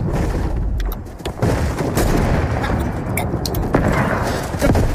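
Gunfire in a Fortnite match, bursts of sharp shots and booms layered over busy game sound, loud and continuous across the moment.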